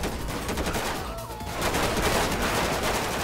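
Gunfire in GTA 5 with the LSPDFR police mod during a FIB SWAT shootout; dense, loud rapid bursts of shots and crackling fire run continuously, rising toward the end.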